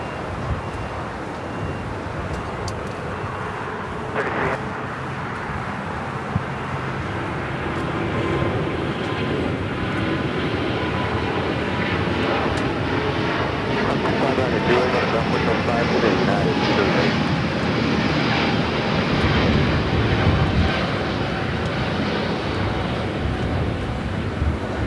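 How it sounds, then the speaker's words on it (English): An Air France Airbus A350-900 jet takes off from Los Angeles airport, its engines giving a broad, sustained roar that swells steadily louder across the clip, with a voice talking over it. "we got that Air France A350-900 heading back to Paris, flight 21. Early rotation as well."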